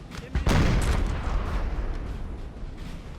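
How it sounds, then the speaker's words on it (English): A heavy artillery blast in the Napoleon Total War battlefield, one loud boom near the half-second mark followed by rolling, echoing battle rumble that slowly fades. "We've got other arty firing."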